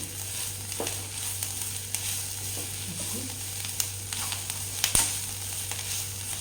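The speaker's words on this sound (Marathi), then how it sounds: "2 ते 3 मिनिटपर्यंत परत आपल्याला हे छान परतवून घ्यायचं आहे." Paneer momo filling sautés in a pan with a steady, close sizzle and a few sharp stirring clinks and scrapes, continuous throughout, with no voices.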